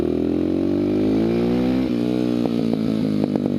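Honda XR650R motard motorcycle engine revving up close: a loud single-cylinder note climbs steadily in pitch, then breaks into a few quick throttle blips.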